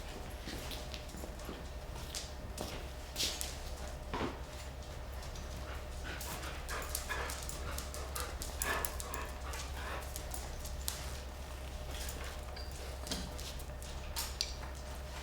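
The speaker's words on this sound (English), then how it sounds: "Oh, these are good dogs here." Dogs greeted at a gathering, with faint whimpers and yips scattered over steady low hum and room noise, no clear barking standing out.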